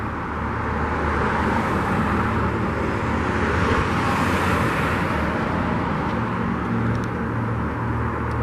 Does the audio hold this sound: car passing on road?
yes